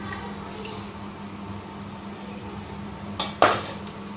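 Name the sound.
spoon taken out of a wok (kadhai)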